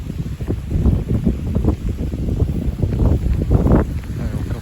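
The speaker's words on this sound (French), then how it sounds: "Là, il y a encore pas mal de vent." Strong wind from a passing squall line roars and buffets against the microphone in continuous low rumbling gusts, loud and close, with surging peaks as a final downdraft gust sweeps through.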